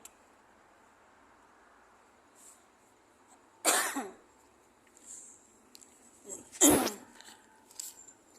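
Two sharp, loud coughs a few seconds apart over a quiet background hum while waiting at a stoplight in Abu Dhabi, followed by smaller rustling sounds.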